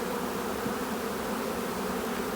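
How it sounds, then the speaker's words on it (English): Honey bees being shaken off hive frames into a plastic dishwashing tub during a spring beeyard inspection, a dense, continuous close-up buzz of many bees at steady loudness with no talking. "So I'm going to just shake the bees off into this plastic tub that I have here."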